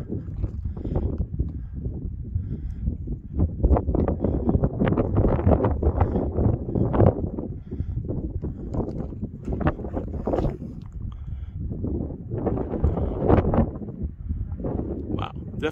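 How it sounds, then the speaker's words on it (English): Wind gusting across a model rocket launch site near Las Vegas, buffeting the microphone as a steady, loud low roar with surging swells for the whole stretch. "Wow, definitely windy."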